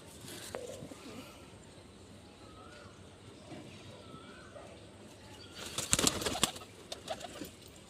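Pigeons, including a male with five white middle tail feathers, coo softly at a distance over a quiet background, then a burst of wing flapping breaks out close by partway through.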